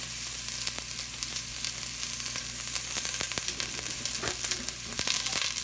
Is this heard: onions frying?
yes